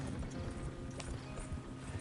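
Horses galloping in the video game Red Dead Redemption 2, a continuous muffled drumming of hooves under low rumbling and a steady background hum.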